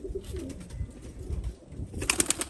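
Valuable fancy pigeons, including smoky-dirty ones, coo in low repeated bursts close by, with a brief rustle of wings near the end.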